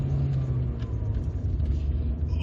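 A 1996 Mercedes-Benz C200 Classic with a manual gearbox, its engine losing power, runs with a steady low rumble and drone from inside the car, continuous and fairly even, with no talk over it.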